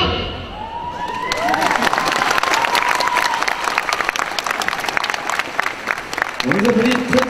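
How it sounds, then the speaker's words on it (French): Audience applause and cheering after a cosplay dance performance as The Legend of Dragoon's Shana at a convention contest, a dense steady clapping crowd with whoops and a voice rising over it. "On applaudit très très bonne Shanna de Legend of Dragon, participante à 4."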